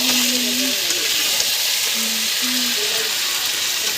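Chicken masala frying in hot oil gives off a loud, steady sizzle that fills the whole stretch, with faint tonal squeaks as it is stirred and no talk.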